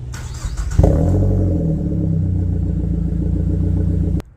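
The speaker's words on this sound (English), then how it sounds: "This is my 2008 Mazda 3 hatchback, and it sounds rowdy" A 2008 Mazda 3 hatchback engine fires up and idles with a deep, rumbling exhaust, holding a steady throaty drone up close before cutting off abruptly.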